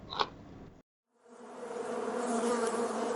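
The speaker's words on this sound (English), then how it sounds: "Bee." A bee buzzes in a continuous, steady drone after a brief silence, loud and close, following a short sharp sound at the very start.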